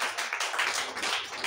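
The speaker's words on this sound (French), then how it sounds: "Faut applaudir pour le Seigneur." A crowd at a church service claps steadily, many hands blending into a dense, continuous patter.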